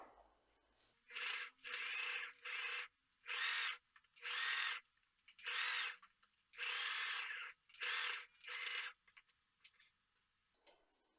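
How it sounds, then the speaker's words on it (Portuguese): A sewing machine topstitching along a fabric edge, running in about nine short loud bursts of rapid stitching with brief pauses between them, close and clear with no talk. "Vamos fazer a costura aqui na beiradinha desse tecido, tá? Tô botando aqui o ponto de pesponto."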